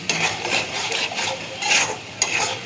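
Spice paste being stirred into hot oil in a pan while cooking a prawn and egg curry, with brisk scraping strokes and soft sizzling, the spoon rasping against the metal in quick repeated bursts, close and clear with no talk.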